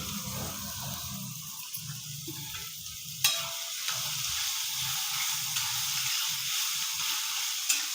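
Coarse-ground vegetable paste and onion fry in oil while being stirred, a steady broad sizzle with scraping of a spoon against the pan and a brief clack near the middle; no talking.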